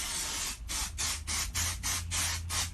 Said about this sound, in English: we're going to be spraying this on there to be sure that we're going to get a release.